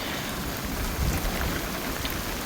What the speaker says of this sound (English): Oh yeah, that's a heavy rain, look at that.